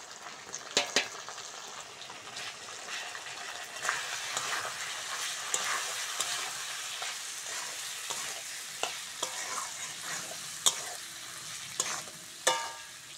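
Ginger-garlic paste with salt, turmeric and chili powder fries in oil for a fish curry after potatoes were browned, giving a busy sizzle under frequent stirring scrapes and sharp utensil clinks against the pan, close and fairly loud, without speech.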